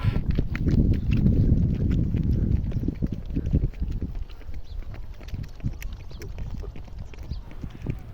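Donkey hooves clip-clop steadily on a ride through the desert valley near Luxor in Egypt, with wind and rustle loud at first, then quieter, with a rhythmic clatter of hoofbeats.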